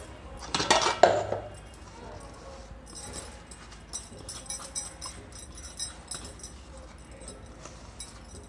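A loud clatter of a mixer jar being washed by hand at the start, followed by quieter scattered clinks and light splashing at close range.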